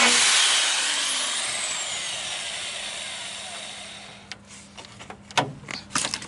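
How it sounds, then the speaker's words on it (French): A drill bores a hole in the door of a Citroën Traction 11B, a loud whine that slowly winds down, followed by a few sharp clicks and knocks of metal handling near the end. "je vais percer encore un des trous"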